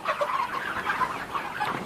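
Chickens, about six and a half weeks old, on a pastured poultry farm, giving soft, repeated clucks and chirps at moderate distance, fairly quiet with no talk.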